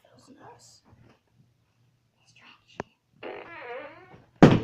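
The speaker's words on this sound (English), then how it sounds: "Is that a fart gun I smell?" A toy fart gun fires with a sudden, loud, short blast near the end, following scattered whispering and quiet voices earlier on.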